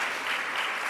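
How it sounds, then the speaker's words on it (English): An audience at a talk gives a brief burst of applause, dense and steady clapping that fills the whole second. "again, another round of applause for Sarah"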